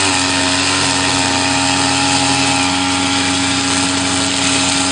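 Steady, loud drone of a gas-powered string trimmer engine running continuously at constant speed, a buzzing two-stroke whine with no pauses.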